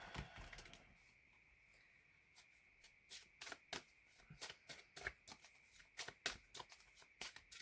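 Oracle cards being shuffled by hand, a faint run of crisp riffling snaps that starts sparse and then speeds into a steady rapid patter, close and quiet with no voice over it.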